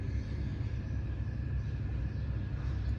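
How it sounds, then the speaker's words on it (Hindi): Low engine rumble of a Mehran car being driven across open ground in PUBG Mobile, a steady continuous drone with no voices. "तो मैंने अपनी मेहरान गाड़ी उठाई"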